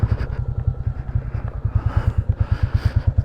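A Royal Enfield Classic 350 single-cylinder motorcycle idles outdoors, its steady thumping beat loud and close with slight fluctuations, no talk over it.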